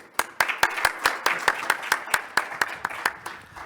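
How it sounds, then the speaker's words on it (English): A small audience claps for the presenters at the close of a mining conference session, distinct sharp individual claps in a fairly sparse, rhythmic pattern, close and fairly loud, with no talking over them. "Please give them a round of applause before leaving."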